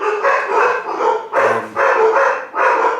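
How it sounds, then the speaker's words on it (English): Several dogs barking in bursts at moderate distance, a repeated volley of barks over about three seconds with brief pauses between, loud and steady with no talk. "The dogs are barking"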